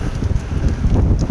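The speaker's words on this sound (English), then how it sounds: "the wind is pretty heavy gust today" Heavy gusting wind sweeps across an outdoor rifle range, a steady, loud low rumble and buffeting against the microphone with no break.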